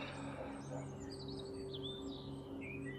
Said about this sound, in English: listening to them little birds cheeping again